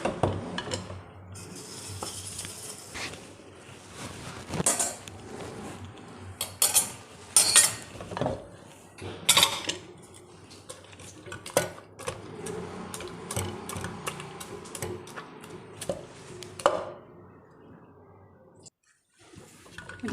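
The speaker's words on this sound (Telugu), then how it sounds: "దీన్ని పప్పు గుత్తి తీసుకొని బాగా ఎనిపేయాలన్నమాట" Cooked dal being mashed in a pot with a wooden masher, giving irregular thuds, squelches and knocks against the pot, some sharp and louder, scattered across a soft wet background.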